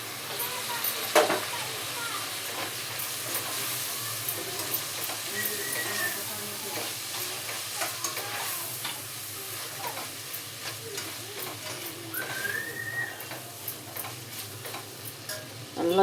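Tomatoes for sambar fry in a pan while being stirred, a soft continuous sizzle with tapping and scraping of the spoon against the vessel, close but fairly quiet.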